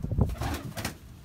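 Pigeons kept in a loft coo in a brief, low, throaty burst up close, followed by a softer trailing call, with no talk over them.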